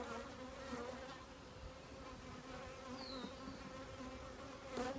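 Honeybees buzzing around an open beehive, a dense continuous hum from many insects close by, with a single bee briefly whining past; no voices.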